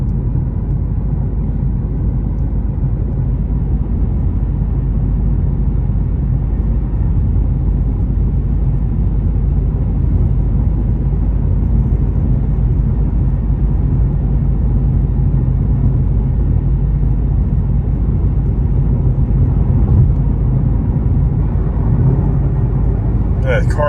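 Ford GT500 with a dual-clutch transmission idling and cruising as a steady low engine rumble, close and continuous, with subtle shifts in drone as it downshifts on its own; a voice talks over it.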